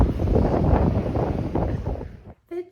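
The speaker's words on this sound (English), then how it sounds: "Yeah, it is in fact really windy today." Strong wind buffets the microphone on the Amalfi Coast, a loud steady roaring rumble that drops off abruptly near the end.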